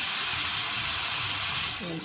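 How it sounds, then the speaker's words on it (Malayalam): Fish fries in hot oil with a loud, continuous hissing sizzle that fills the whole moment, and a voice speaks briefly underneath. "എണ്ണയിലേക്ക് മീനൊക്കെ പൊരിക്കുന്നു"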